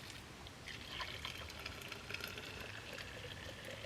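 Freshly boiled hot water is poured into a cup outdoors in winter, a faint, steady liquid trickle over a soft hiss lasting several seconds, with no talking.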